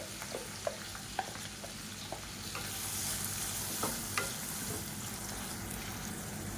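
Finely chopped onion and green chilli sizzle and fry in a pan as a steady bed of crackle, with scattered spatula clicks and a rise in sizzle about halfway through.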